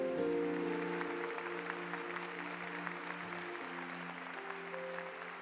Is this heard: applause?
yes